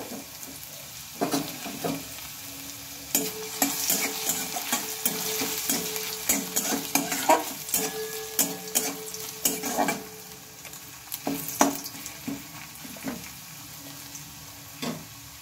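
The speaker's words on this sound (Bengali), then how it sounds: "তেলের উপরে দিয়ে নিলাম তেজপাতা, আর দিয়ে নিলাম একটা শুকনো লঙ্কা, আর সাথে দেখো দিয়ে নিলাম আদা কুচনোটা" Bay leaf, dried chili and chopped ginger fry in hot oil for a sugar-free tomato chutney, giving a steady close sizzle broken by frequent sharp scrapes and taps of a spatula stirring in the pan, with no talking.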